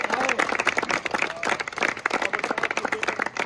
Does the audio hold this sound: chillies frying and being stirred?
no